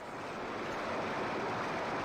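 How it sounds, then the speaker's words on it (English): Rushing waterfall in the N64 game Indiana Jones, a steady, dense wash of broadband water noise, loud and unbroken throughout, with no voices. "An over-enthusiastic waterfall."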